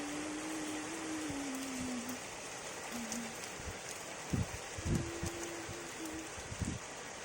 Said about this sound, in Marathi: खूप छान असा पाऊस येत आहे